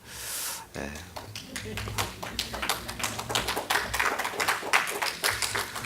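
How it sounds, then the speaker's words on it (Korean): A church congregation claps in a dense, steady burst of many hands, following a spoken line and continuing for several seconds, fairly close and filling the room. "굳이 안 해도 되는 박수를 치시고"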